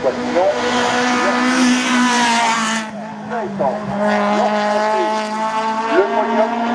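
A single-seater race car at the Hébécrevon national hill climb, its engine screaming at high revs with rapid gear changes as it passes nearby, loud and sustained, with a commentator talking over it.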